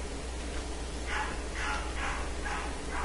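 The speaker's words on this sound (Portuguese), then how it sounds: "Participação especial de um cachorro na rua." A dog barking out on the street, four or five evenly spaced barks at a distance, faint over a steady low background hum.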